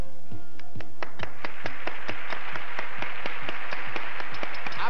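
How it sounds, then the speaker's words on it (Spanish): Studio audience applauds a magician after a mirror trick, with loud, close, rhythmic clapping that starts sparse and swells into dense, continuous applause. "¡Aplausazo para el mago!"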